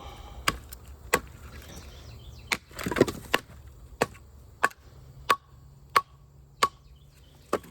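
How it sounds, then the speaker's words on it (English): Sharp, dry knocks of dry firewood being tapped, about a dozen spaced taps at a steady unhurried pace, close and crisp against a quiet background. "You get a pretty hard, pretty dry sound when you tap it."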